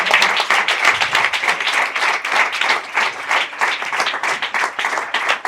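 An audience applauds a panel at a legal-access hearing with sustained, dense clapping from many hands, loud and continuous, with no speech over it.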